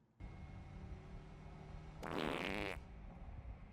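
A long, loud, bubbly cartoon fart from Harley Quinn in the Lego Batman: Legacy of the Dark Knight video game, sounding for under a second inside a car over a steady game background hum.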